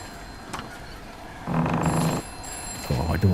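A telephone rings in a dark horror video game, sounding in short bursts of bright electronic ringing over a quiet ambient hum.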